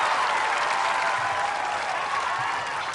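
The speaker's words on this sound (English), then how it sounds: "And the crowd getting the Tyler chants going." A stadium crowd at a Ninja Warrior obstacle course event roars with dense, continuous applause and cheering that holds steady and loud throughout, with no clear speech over it.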